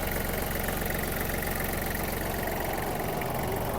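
A Kubota GL-29 diesel mini tractor engine, 1499 cc, idles steadily, a constant close rumble with a fast, even knocking beat and no pauses.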